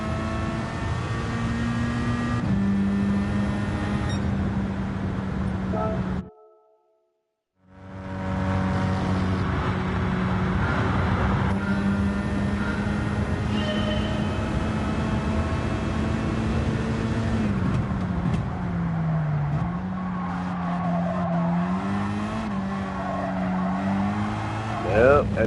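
A race car engine in Gran Turismo 7 drones at steady high revs, its pitch rising and falling with gear changes, with one brief cut to silence partway through. The engine runs loud and continuous with talk over it.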